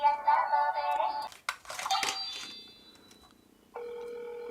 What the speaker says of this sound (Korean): 전화 오는 것도 있네요.